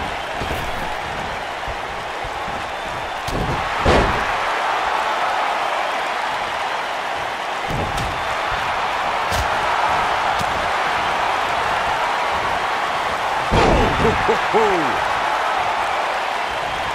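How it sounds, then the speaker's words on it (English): A crowd at a women's wrestling event applauds and cheers in a steady wash of noise, with a commentator talking over it and a few sharp claps and whistles breaking through. "I don't remember the last time I heard a more passionate crowd than the one we have here tonight"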